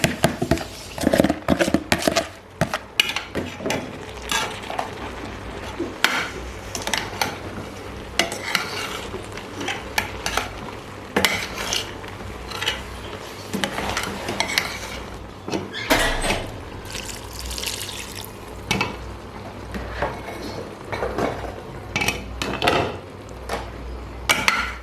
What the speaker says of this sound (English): I'm going to stir this very well before adding the remaining half.